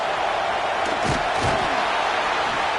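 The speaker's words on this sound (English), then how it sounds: "The Tide crowd rolling noise down on the Saban field on 3rd down." A roaring stadium crowd at an Alabama football game on third down, a dense, loud, continuous wash of noise with a couple of heavy thumps in the middle.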